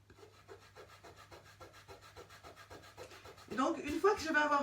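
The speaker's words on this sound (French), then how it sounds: "Vous entendez, je frotte vraiment très fort, hein, mais je ne vais pas sur le motif." Hard, rhythmic rubbing scrapes across a photocopy image transfer on wood, close and steady strokes that grow louder and faster in the final second, with no talking.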